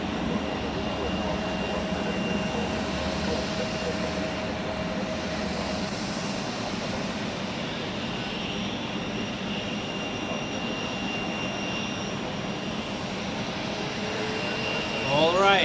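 A jet airliner at Zurich Airport rumbles steadily at a distance, a broad sustained engine roar with faint tonal whine, swelling slightly near the end.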